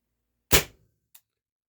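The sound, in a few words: HDR68 / TR68 revolver shot indoors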